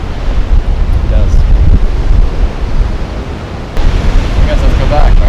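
Ocean surf and strong wind by the sea, heavy wind buffeting on the microphone over a continuous low wash of waves, with a brief lull in the middle before the gusts return.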